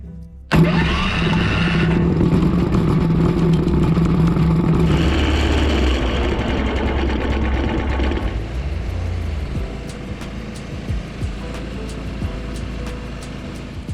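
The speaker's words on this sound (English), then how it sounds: "this old engine just keeps running" An old engine powering the blade of a manual sawmill, starting with a sudden burst and then running loud and steady nearby, its pitch shifting as the load changes before it settles to an even drone.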